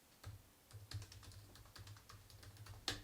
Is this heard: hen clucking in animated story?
no